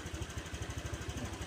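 An older Honda Vario 125 scooter engine idles at normal speed after its throttle position sensor and RPM were adjusted, giving a steady, quiet, evenly pulsing low putter with no other sounds.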